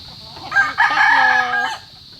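A rooster crows loudly nearby, a drawn-out cock-a-doodle-doo preceded by a couple of short clucks, with quiet farmyard background.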